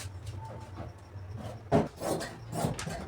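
Scissors cut through blouse fabric in a few rasping, scraping strokes, the loudest swells coming in quick succession toward the end over a low background hum.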